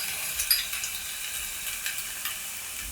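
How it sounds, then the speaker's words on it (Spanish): Onion and garlic fry in a pan with a steady, close sizzling hiss, broken by soft scrapes of stirring, with no voices. "La cebolla ya casi está lista y voy a agregar el ajo"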